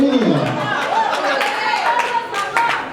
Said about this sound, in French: Merci de bien applaudir pour l'artiste